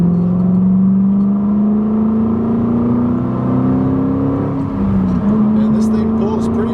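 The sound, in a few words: 2005 Mustang GT accelerating after shifting into gear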